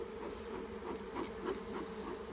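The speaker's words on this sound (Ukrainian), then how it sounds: "Десь рій невеликий, але будемо бачити." A small swarm of honey bees inside a bait trap, a continuous close, buzzing drone with gently pulsing intensity and no voices.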